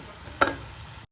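Masala roasting in a pan gives a low steady sizzle, broken by one sharp spatula scrape or clink midway. The burst is brief and near, with no voices.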